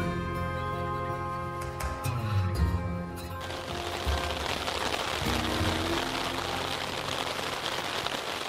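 Steady rain falls on a tent at a wilderness camp in the old-growth forest along the Pärlälven on a rainy evening, a dense, continuous hiss of drops close by, with some faint tonal sounds early on.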